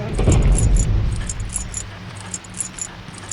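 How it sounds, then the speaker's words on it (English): Keys jingle as a janitor walks past in the horror video game White Day, a rhythmic metallic jangle that starts loud and close and then fades as he moves on, with low rumbling ambience underneath. "Here's keys jingling on right by."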